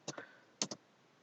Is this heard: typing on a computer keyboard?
yes